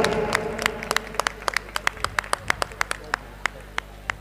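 Scattered clapping from a crowd at a live Ramlila performance, starting as a brief wash and thinning into distinct single claps that keep a fairly steady beat.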